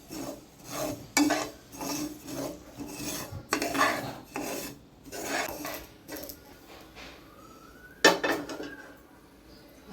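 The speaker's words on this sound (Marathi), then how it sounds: "खसखस टाकायची त्याच्यात तूप वगैरे टाकायचं नाही फक्त गरम करायचं" Poppy seeds are dry-roasted in a pan with no ghee, a utensil scraping and stirring in repeated rhythmic strokes, with sharp clinks against the metal, close and fairly loud.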